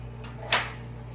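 A door in a hospital patient room shuts with a single short thud and a soft clack, close and moderately loud, over a low steady hum.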